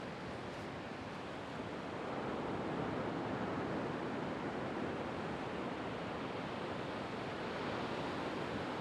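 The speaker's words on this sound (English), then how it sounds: "I can see there's a couple of decent waves breaking right where my line's going" Ocean waves break on a fishing beach, a steady broad roar of surf that swells slightly after the first couple of seconds and carries on unbroken, close and fairly loud, with no voices.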